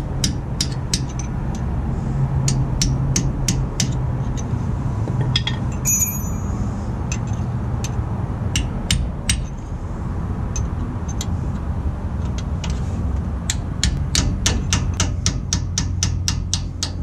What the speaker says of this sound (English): so I'll chisel that out and get that off if I can